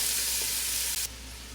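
Vegetables sauté for soup in a hot pan with a dense, close sizzle. It briefly cuts out, then carries on at a lower level for the last half second. No one speaks.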